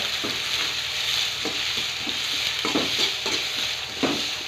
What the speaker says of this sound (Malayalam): സബോള ഇട്ട് പച്ചമുളകായിട്ട് ഇനി അടുത്തത് പച്ചമുളക് ഇടാം കേട്ടോ രണ്ടും കൂടി ഇട്ടിട്ടൊന്ന് ഇളക്കാവേ